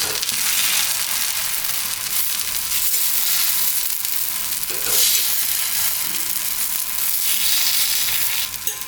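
Paniyaram cook in oil in a pan, giving a strong, continuous crackling sizzle with occasional louder bursts and scraping as they are turned.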